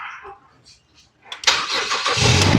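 A Ford Escape left unused for seven years cranks briefly after a few quiet clicks, then catches and starts, settling into a loud, close rough idle.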